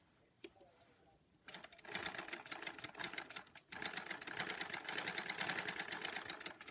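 A Lego one-cylinder OHV vacuum engine starts up and runs with a fast, even mechanical clatter, close and fairly quiet, after a brief click at the start.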